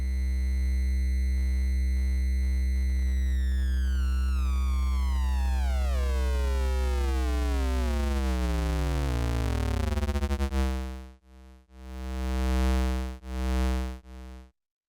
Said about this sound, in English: Here I have a triangle wave from an oscillator patched into the input of the sample and hold